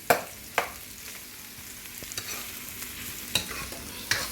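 Chunky onions, green peppers and garlic sizzle softly in a pan, with a few sharp utensil taps and scrapes as they are stirred, quiet and close, no voices.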